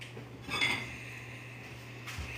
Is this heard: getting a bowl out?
yes